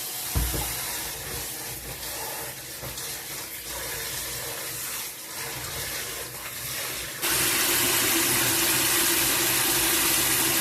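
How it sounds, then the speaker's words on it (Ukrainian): Rice is rinsed under a cold running kitchen tap, water splashing steadily into a bowl; partway through, the flow grows louder and more even, a continuous close hiss with no voices. "Обов'язково промиваю в холодній воді."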